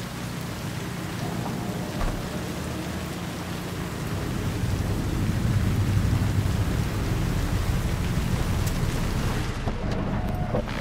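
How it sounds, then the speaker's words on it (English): Steady heavy rain pours throughout in Cyberpunk 2077: Phantom Liberty, with low rumbling thunder rolling underneath; a constant dense wash of sound with no voices. "I wouldn't stand out in the rain."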